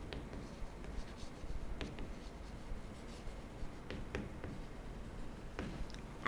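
Pen writing a geometry solution on paper for a Class 9 lines-and-angles maths problem, soft steady scratching with occasional light taps, close and quiet, no voice.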